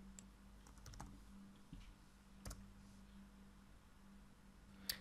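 Faint, scattered keystrokes on a computer keyboard click sparsely over a quiet room hum, with short pauses between small bursts of taps.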